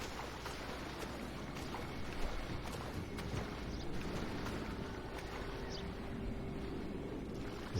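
A boat engine runs on rough water in GTA V, a steady low rumble mixed with splashing and wind noise, fairly faint and continuous throughout.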